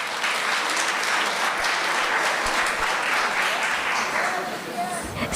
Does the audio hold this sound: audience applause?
yes